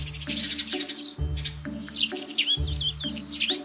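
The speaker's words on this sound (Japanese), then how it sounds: "鳥のさえずりとともに目覚める私" Morning birdsong with bright, repeated chirps and tweets over a low, looping backing tone, steady and fairly close throughout.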